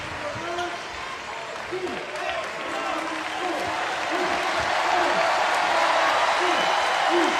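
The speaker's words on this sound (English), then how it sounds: "Gonzaga crowd here in Portland appreciating the effort and the ability for them to get the ball over after struggling with the press" A basketball crowd at a Gonzaga game in Portland claps and murmurs, the applause swelling steadily over several seconds while a commentator talks over it.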